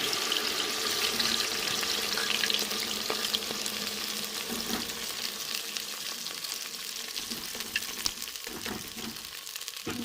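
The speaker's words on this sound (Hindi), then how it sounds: "ये देगची में मैंने घी रख दिया, घी मेरा गर्म हो गया। अब हम इसमें भिंडी शामिल करेंगे।" Okra added to hot ghee in a deghchi for a green chilli and bhindi dish, a steady crackling fry with watery sputtering and occasional stirring knocks, close and continuous without speech.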